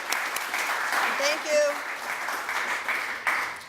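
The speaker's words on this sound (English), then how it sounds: "A round of applause again for Full House." Steady audience applause at a medal award ceremony, given for the group Full House, continuous crowd clapping with a brief spoken thanks heard over it.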